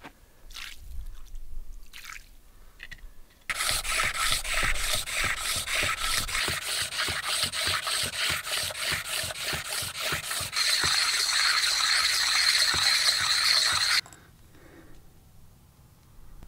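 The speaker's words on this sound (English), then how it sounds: "So I'll start grinding on the sandstone slab" A shell bracelet ground by hand against a sandstone slab, giving a loud, close, rhythmic gritty scraping in quick repeated strokes that starts abruptly, grows harsher toward the end, then stops, with no voices.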